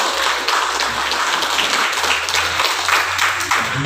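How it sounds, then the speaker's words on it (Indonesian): Audience applause at a school legal-awareness session in SoE, a dense continuous clatter of many hands clapping, loud and close throughout with no voices heard. "Saya minta kita semua tepuk tangan yang meriah."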